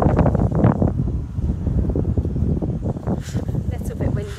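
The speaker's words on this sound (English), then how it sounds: "A little bit windy, so we won't keep you out here for too long" Gusty wind buffeting the microphone on an outdoor hotel terrace beside a city wall, a loud low rumble under a voice speaking throughout.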